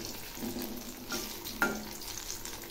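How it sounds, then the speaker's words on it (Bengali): Sweet palm pitha fry in hot oil while being turned, a steady close sizzle with soft scraping stirs and a sharper clink midway, no voices over it. "এভাবে উল্টে পাল্টে ভেজে নেব।"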